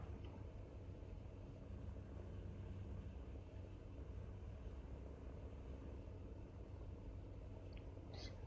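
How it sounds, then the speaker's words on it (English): A distant vehicle engine in the War Thunder video game, a steady low rumble droning continuously at moderate level with no speech over it. "I hear an engine."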